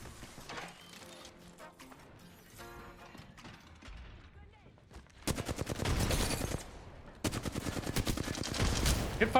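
Rapid bursts of gunfire in Apex Legends, loud and dense in the second half, with quieter game effects before it and a player talking over the action.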